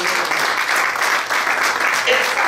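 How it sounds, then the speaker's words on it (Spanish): Church congregation applauding in praise, a steady dense wash of many hands clapping at full volume throughout, with a faint voice briefly audible underneath. "Den un aplauso al Señor"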